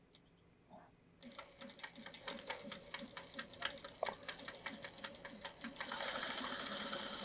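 A sewing machine stitches a quilt block with a quick backstitch, then a run of rhythmic mechanical ticking, with a steadier hum building toward the end; close and fairly quiet.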